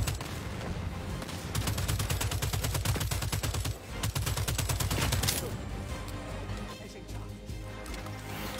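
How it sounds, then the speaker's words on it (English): An airstrike in the video game Second Extinction, a loud rapid barrage of rattling gunfire-like impacts over a low rumble, with people talking over it. "Airstrike coming in."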